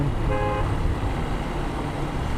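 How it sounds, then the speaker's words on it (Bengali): A motorcycle fitted with a pop horn gives a single short, sharp toot near the start, over steady road traffic noise. "হর্ন লাগাইছে পপ হর্ন তারপরে কী হর্ন দিচ্ছে দেখো"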